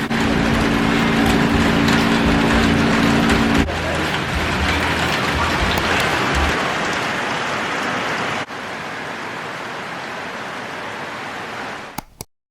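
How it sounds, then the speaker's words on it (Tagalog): Heavy rain pours steadily at night in a rural province, a dense, continuous hiss and patter on surfaces that stays loud throughout, with a low hum under the first few seconds and a brief knock near the end. "super lakas ng ulan right now"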